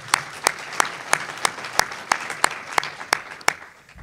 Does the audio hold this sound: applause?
yes